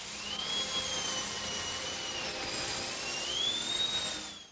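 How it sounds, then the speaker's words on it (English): A dentist's drill in a wrestling theme song, a steady high whine that slowly bends up and down in pitch over a dense, continuous hiss, moderately loud and unbroken throughout. "Yep, that's the sound of a dentist drill."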